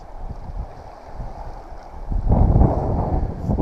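Strong wind buffets the microphone from behind a kayak on a canyon reservoir, a low steady rumble that swells louder and rougher partway through, with faint water sounds underneath.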